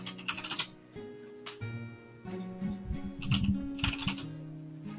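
Fingers typing on device keyboards during a live show, a quick patter of clicks layered over a steady hum and tones, with faint voices in the room.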